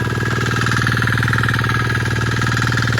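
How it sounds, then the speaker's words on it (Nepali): A tractor ploughing a field: loud, close, rhythmic diesel engine chugging with a rapid steady pulse and strong vibration, continuous throughout with no voices. "अब चाहिँ ट्र्याक्टरले जोत्नु सुरु भइसक्यो यतातिर"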